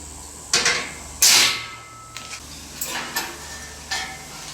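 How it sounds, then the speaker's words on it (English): A hammer strikes a steel strap set on a bracket, with two sharp metallic blows near the start followed by several lighter taps, close and clear in a quiet workshop. "we do then is just belt that with a hammer"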